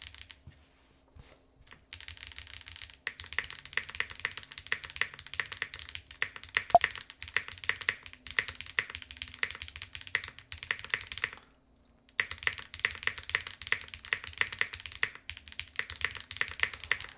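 Rapid typing bursts on an RO75 mechanical keyboard with stock switches, GMK keycaps and only plate foam inside, close and clear, with short pauses between runs of keystrokes.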